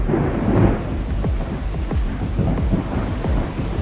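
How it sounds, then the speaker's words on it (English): A thunderstorm right overhead during van life in Bulgaria, with heavy rain hissing steadily on the surface and low rumbling thunder rolling throughout, no voices. "The storm is right overhead now."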